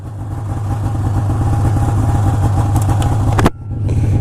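A snowmobile engine runs steadily and loud at close range, a continuous low throbbing drone with an abrupt dip near the end before it carries on.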